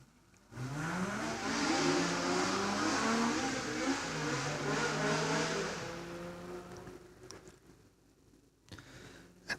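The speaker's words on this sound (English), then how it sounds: "Gavin Molden's Datsun 1600 is charging up that hill" A bright orange Datsun 1600 race car charges up a hillclimb course, its engine swelling loud through rising gear changes, then fading into the distance.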